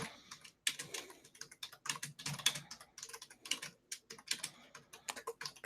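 Fingers typing on a computer keyboard, close and fairly quiet, with irregular bursts of rapid key clicks and short pauses between them.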